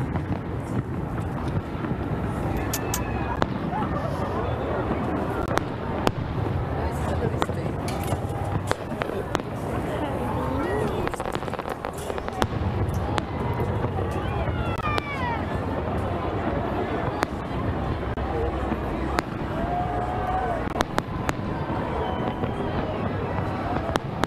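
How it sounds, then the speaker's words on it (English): Repeated sharp bangs of New Year's fireworks over Bayfront Park, Miami, crackle over a steady outdoor rumble, with people talking and cheering throughout. "And watch the fireworks here over Bayfront Park."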